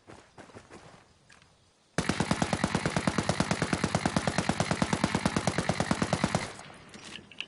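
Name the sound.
gunfire while prone in video game Ghost Recon Wildlands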